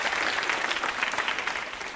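Quiz show audience at a women's polytechnic college clapping together in a thick, sustained round of applause, even and unbroken for the whole stretch with no talking over it.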